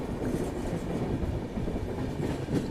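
An Indian train runs through Tenali junction with a loud, steady rumble and clatter of wheels on rails, continuous and close throughout.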